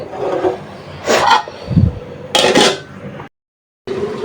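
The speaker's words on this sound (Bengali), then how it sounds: "ডাটা আর বিসিগুলো করাই দেখেন কেমন নাড়াচাড়া করতেছে" Vegetable stems and jackfruit seeds being stirred in a pan, a few scraping, rasping strokes of a utensil against the metal, close and dry, with a brief silent gap near the end.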